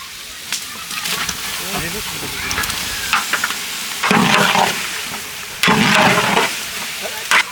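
Beef goes into a pan of fried spices, yogurt and biryani masala for a village-style beef tehari, bursting into loud hissing sizzles with stirring scrapes in between, close and in strong surges, with talk over it.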